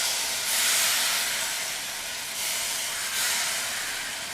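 Masala of turmeric, chili and coriander powders for a chickpea kurma sizzles in a pan after water is sprinkled in, a loud steady hiss that swells in several bursts.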